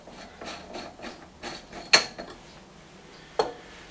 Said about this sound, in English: So you take this collar off,